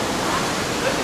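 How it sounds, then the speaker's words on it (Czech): A flooded, fast-flowing river roars in a steady, dense rush of broadband noise, close and loud and continuous throughout, with no other sounds breaking through. "Ono je fakt povodeň, sledujte, jak rychle ta řeka to teče."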